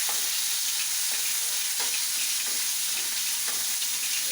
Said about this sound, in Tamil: கொஞ்சம் வதங்கட்டும் பொன்னிறமாக